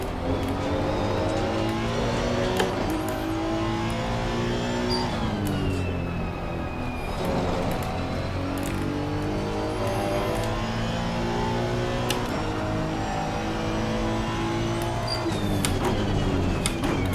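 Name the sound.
mid-engine race car engine in Assetto Corsa Competizione video game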